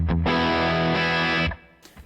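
Electric guitar playing a rock rhythm part dry through an amp, a distorted chord ringing for over a second and then cut short, loud and close.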